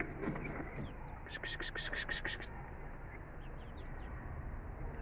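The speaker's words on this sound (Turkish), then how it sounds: "Tavuklarımız biraz hırçın saldırıyor." A short burst of harsh, rapid squawks from chickens in a coop, close and fairly loud, then fading into a low rustling background.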